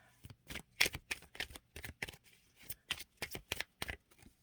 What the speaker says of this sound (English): I'm shuffling off camera because if I shuffle on camera, it blurs it